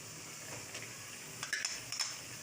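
Minced meat keema fries in oil in a pan with a soft, steady sizzle and hiss. A few light metallic clinks of a spoon sound near the end.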